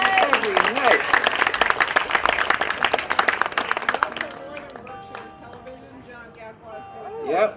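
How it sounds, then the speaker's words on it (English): Crowd applause for TV camera crews at an outdoor walking-tour concert at a campsite in Cheshire, Massachusetts: dense clapping for about four seconds, then fading to scattered claps under chatter and voices. "Give them a round of applause because they've been here every night."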